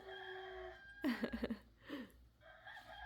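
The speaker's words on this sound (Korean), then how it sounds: "자 이번에는 닭." Recorded chicken sound from a farm-animal picture book, a short clucking and crowing burst in the middle of a quiet room, followed by a second faint call.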